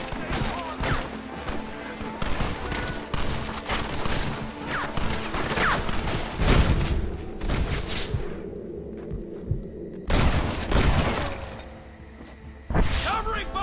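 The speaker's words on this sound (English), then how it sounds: "Covering fire." Dense, continuous shooting from Red Dead Redemption covering fire, overlapping shots, crashes and heavy booms through most of the stretch, with a brief lull and a closing burst, and a voice talking over it.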